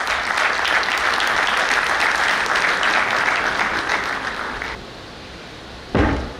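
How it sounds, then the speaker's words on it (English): Steady applause from a conference audience fills the room for several seconds, then fades to quiet before a sudden loud knock. "with a huge round of applause"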